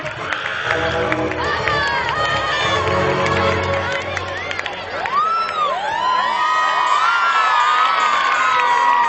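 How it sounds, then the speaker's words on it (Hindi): At a stage performance a crowd cheers and shouts, with excited, high children's voices, whoops and rising calls layered over a dense, noisy roar that stays loud throughout. "जोरदार तालियां होनी चाहिए हमारी उर्वशी के लिए"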